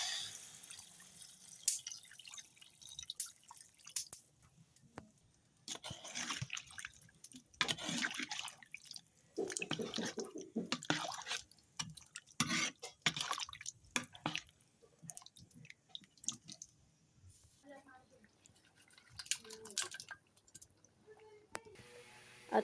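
Water trickling and dripping into a cooking pot, faint irregular splashes and drips in bursts with quiet pauses between them.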